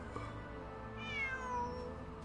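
Bonnie, a cat in the video game Genshin Impact, lets out a single clear rising-and-falling meow over a low game background hum.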